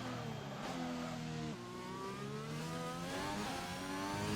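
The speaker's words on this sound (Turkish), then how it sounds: "Gerçekten bu yeni turbo ıslığı sesi veya hibrit motor sesi oldukça güzel olmuş." F1 2021 video game racing car with a hybrid turbo engine, rising and falling harmonic pitch as it shifts through gears during qualifying, a steady loud whine with a turbo whistle edge, no voices.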